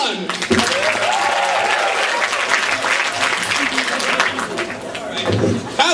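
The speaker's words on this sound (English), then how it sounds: "Please give a round of applause to Ari Teman." A Yeshiva University audience breaks into sustained applause for comedian Ari Teman at a clean comedy show, loud, dense clapping with cheers and a few voices over it.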